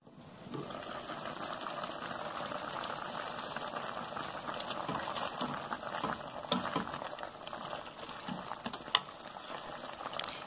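Fried bean curd sticks and lotus root braising in a covered pot over medium-low heat, a steady bubbling simmer with faint rattling of the lid, continuous and close.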